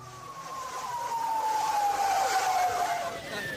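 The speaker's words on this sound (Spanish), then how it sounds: "Hay ambulancias por todos lados" An ambulance siren wails steadily on a city street after a bomb attack on an embassy, a loud sweeping tone over a dense wash of traffic and street noise, with no clear talk.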